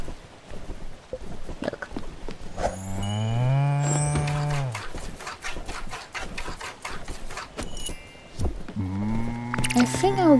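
Cows in the video game Spiritfarer moo several times, long low drawn-out calls rising and falling, close and loud, with other game sounds in between and faint chatter underneath.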